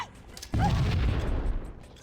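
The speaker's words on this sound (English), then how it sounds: "I can get through if I lob a grenade" A lobbed grenade explodes in Halo: Combat Evolved, a quiet lead-in broken by one heavy booming blast that rumbles on and slowly fades.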